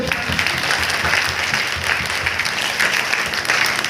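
A congregation claps together at a Christmas church service: dense, steady applause that runs without a break, close and fairly loud, with no voices on top.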